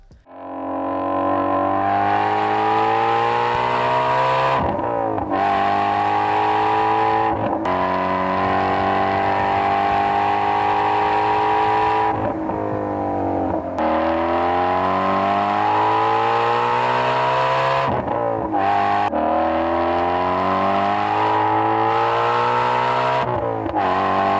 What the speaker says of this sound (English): it doesn't sound like any European V8 because it has unequal length headers.